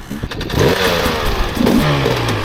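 A 2024 Husqvarna TE 300 two-stroke dirt bike engine revving close by in short, loud, raspy bursts that rise and fall in pitch.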